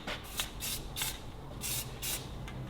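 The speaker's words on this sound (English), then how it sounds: "I'm also going to give that a little bit of a spray up" An aerosol spray can hisses in five short, close bursts as paint is sprayed onto a Ferguson TEA20 tractor lift plate, each burst a sharp steady hiss with brief pauses between.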